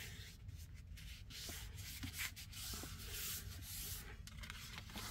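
Paper for a junk journal pen holder is folded and creased by hand, a quiet, close, continuous rubbing and brushing with soft scraping strokes.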